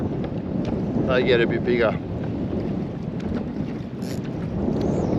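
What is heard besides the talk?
strong wind while fishing from a boat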